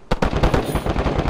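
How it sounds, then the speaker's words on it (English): Machine gun fire in an online multiplayer shooter, a sharp onset followed by a fast, steady rattle of evenly spaced shots, fairly loud and close with no voices. "It's a lot of gunfire."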